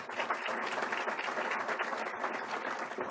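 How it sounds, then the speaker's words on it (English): A room of guests at a school district foundation's morning superintendent's breakfast applauds in a steady, dense wash of clapping that holds at an even level for the whole stretch, with no one speaking over it. "How about a big round of applause for them?"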